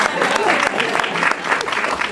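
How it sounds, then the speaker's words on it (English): A short burst of clapping from an audience, steady and moderately loud, with some voices mixed in. "I don't know what I did to deserve applause here"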